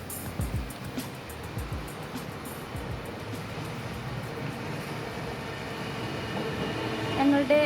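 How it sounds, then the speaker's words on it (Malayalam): A train rumbling past an apartment beside a railway station in a Sydney suburb, a steady low roar lasting throughout and swelling near the end, with a voice speaking over it. "സോ എപ്പോഴും ട്രെയിൻ ഇങ്ങനെ പോയിക്കൊണ്ടേയിരിക്കും"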